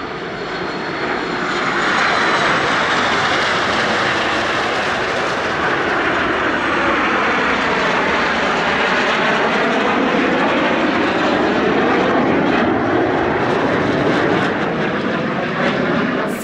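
Jets of the Fursan Al Emirat aerobatic team roar overhead during the finale of their display at the LIMA Langkawi 2023 airshow, a loud, sustained broadband engine rush that swells in the first seconds and holds steady throughout.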